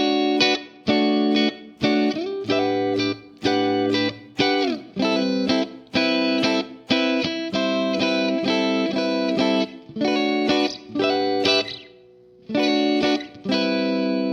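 An electric guitar with a single-coil pickup plays a clean tone through the ML Sound Lab Amped Oracle amp plugin. Repeated bright chord stabs ring out in a steady rhythmic pattern, loud and close, with brief pauses between them.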